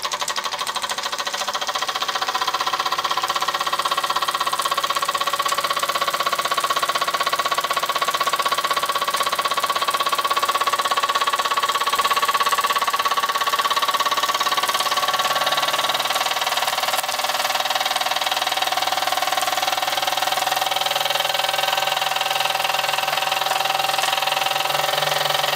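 A Wilesco D12 toy steam engine runs steadily, giving a continuous fast mechanical chatter with a hissing of steam and a faint whistle-like tone, close and loud throughout.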